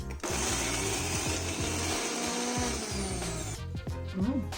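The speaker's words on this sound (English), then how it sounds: "let's grind this onion and garlic" A blender grinds onion and garlic in a loud, close whir that runs for several seconds before cutting off, followed by a few knocks and a short voice.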